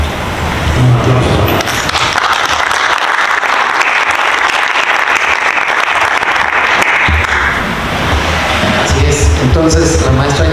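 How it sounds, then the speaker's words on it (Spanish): Audience applause at a university council session in Mexico, a dense steady wash of clapping filling the room for about ten seconds, with some voices mixed in near the end. "Un aplauso."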